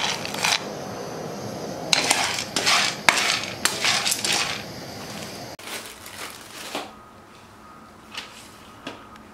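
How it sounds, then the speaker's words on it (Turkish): Yellow pepper roasted in a pan, with clattering metal scrapes and clinks of a utensil against cookware, busy for the first half and then sparser, no talk. "Şimdi sarı biberi kavuruyorum"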